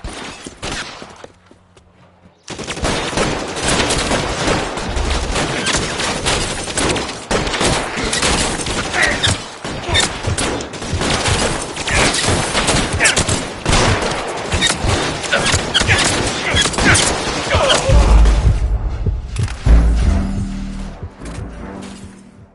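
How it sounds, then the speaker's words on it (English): Sustained gunfire in the video game L.A. Noire, a loud, dense barrage of rapid shots and cracks that continues for about twenty seconds after a quiet opening, with heavy low booms near the end. "All units, shots fired, Officer needs help."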